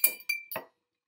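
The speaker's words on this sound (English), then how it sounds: "Discard the ice from our coupe glass here" Ice rattles out of a chilled coupe glass while making a gin gimlet: three quick, bright glassy clinks close up, then silence.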